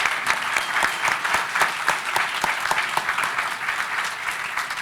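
Sustained audience applause for a panel at a public talk on depression, dense steady clapping from a sizable crowd throughout, fairly loud and continuous.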